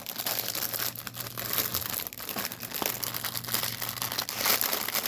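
A plastic bag holding cross stitch embroidery threads on a thread card is opened up close, giving continuous crinkling and rustling for several seconds with occasional sharper crackles and no talking.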